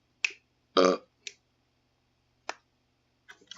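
Belching in a GTA roleplay game session, several short bursts spaced apart, one longer deep burp near the start among brief clicky sounds, no talk.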